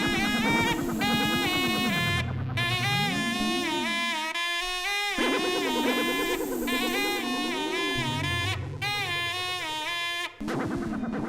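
Snake charmer's music from a been-style reed pipe in a South Indian horror film dubbed in Hindi, a loud, continuous nasal melody with wavering trills and a steady drone, briefly dropping out twice.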